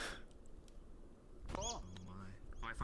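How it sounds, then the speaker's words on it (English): In the video game VRChat, a bird gives a brief squeaky chirping burst with a rising and falling tone, following quieter background noise and a few clicks. "Random bird squeaking."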